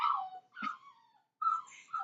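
Puppies whimper and yip in short, high, thin cries, three brief bursts with small gaps between them, close by and fairly soft.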